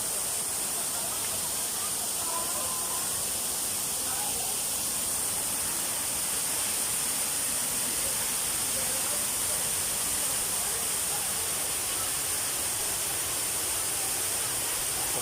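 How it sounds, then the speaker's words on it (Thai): The small Phran Thong waterfall in Khon Kaen gives a steady, dense rush of falling water, a constant broadband hiss that stays loud and unchanging throughout. "น้ำตกพรานทองก็จะเป็นน้ำตกเล็กๆนะครับ"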